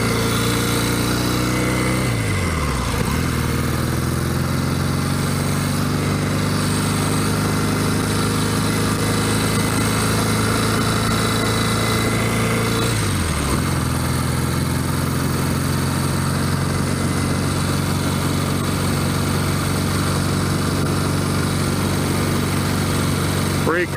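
A 1964 Royal Enfield Interceptor 750 motorcycle engine runs steadily with a loud, close, continuous drone, dipping briefly twice as the revs shift.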